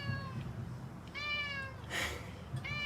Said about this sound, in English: Hi, kitty.